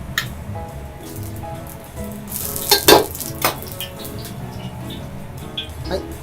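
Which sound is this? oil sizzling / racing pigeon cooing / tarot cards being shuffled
oil sizzling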